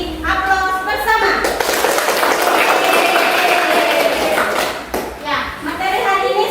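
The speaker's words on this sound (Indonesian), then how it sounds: "Kita kasih aplaus bersama." A classroom of children claps together in sustained, dense applause, loud and close, with children's voices chattering over it as it fades.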